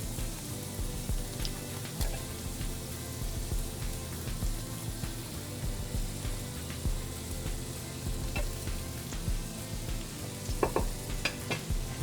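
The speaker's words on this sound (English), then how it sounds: "I'm going to start our onions in the pan" Onions sizzle steadily in a hot frying pan, with a continuous crackling hiss and occasional sharper pops.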